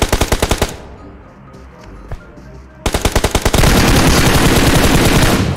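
Bursts of automatic machine gun fire in the battle royale game PUBG on the Erangel map, loud and rapid, with a pause of quieter ambience before a sustained volley resumes; voices are faint.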